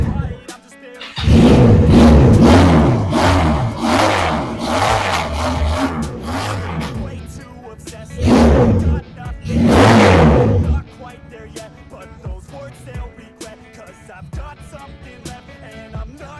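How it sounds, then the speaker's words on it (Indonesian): A Benelli PE two-cylinder motorcycle with its stock exhaust revs hard in several deep, bassy bursts, loud and close, with rising and falling engine tones between short idling gaps. "Dan knalpot standar ini suaranya lebih ngebas."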